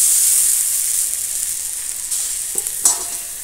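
Fried potatoes being stirred with mustard paste in a pan, heard as a steady close sizzle with scraping spoon strokes and a couple of sharper clatters near the end.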